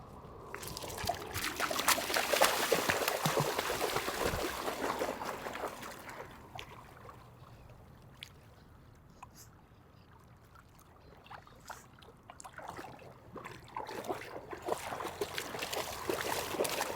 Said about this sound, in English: I decided to just stop and go for a little riverside walk, let Frank play in the river